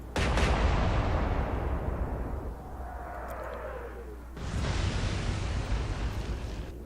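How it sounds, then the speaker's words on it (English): A 15-inch armor-piercing naval shell fired in a video game, heard as a deep, rumbling boom that rolls on for several seconds, dips, then swells again into a second sustained roar. "15-inch armor-piercing shell"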